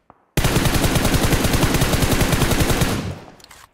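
Automatic rifle fire in the battle royale game PUBG Mobile: a loud, sustained rapid burst of gunshots lasting about two and a half seconds, close and dense, then fading out.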